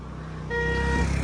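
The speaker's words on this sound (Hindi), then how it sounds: "और ये गाड़ी आ गई।" A car pulls up on a mountain road in Nagarkot, Nepal, its engine hum rising over steady traffic rumble, with a brief horn-like tone near the end, fairly close.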